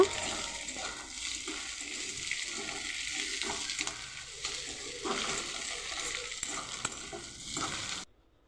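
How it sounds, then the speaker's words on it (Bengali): Potatoes frying in a pan, a soft steady sizzle broken by the scrape of stirring, close but fairly quiet, ending abruptly in silence near the end. "দিয়ে একটু নেড়ে নিয়ে আস্তে আস্তে আলুটা একটু ভেজে নেব।"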